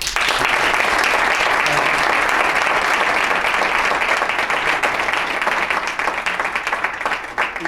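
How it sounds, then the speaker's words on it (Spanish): An audience gives a final round of applause at the end of a talk. The clapping is dense and sustained, holding steady for several seconds before it starts to thin near the end. "un último aplauso."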